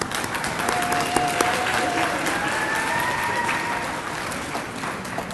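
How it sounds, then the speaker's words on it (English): An audience at an honor society induction ceremony applauds a student government president with loud, continuous clapping that stays steady across the whole stretch, while faint voices carry through underneath. "Let's give her a round of applause."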